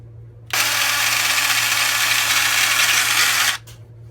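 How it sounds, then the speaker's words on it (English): A faulty Ryobi Corner Cat cordless detail sander switches on with a loud, harsh, hissing buzz, runs for about three seconds, then cuts off abruptly. It is close and heard alone. "So my Ryobi sander stopped working. I'll show you what it does."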